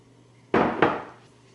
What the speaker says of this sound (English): We have 3 eggs, so we'll crack those in there.